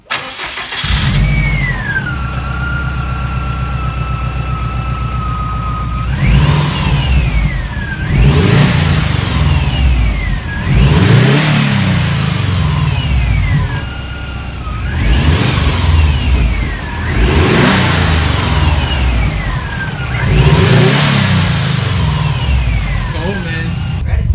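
A Subaru WRX engine with a DC Sports RAM aftermarket intake starts and revs repeatedly, each rev rising in pitch then falling back, with idle between bursts and some voices underneath.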